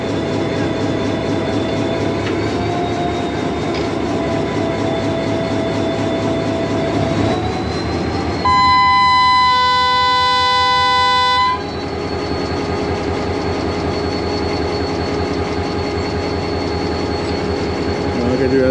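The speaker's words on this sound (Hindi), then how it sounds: "डिपार्चर हॉर्न भी दे दिया ड्राइवर साहब ने।" An Indian Railways locomotive at a station, just back in service after a fault was repaired, sounds a long departure horn about three seconds long over steady engine rumble and rolling clatter, loud and close.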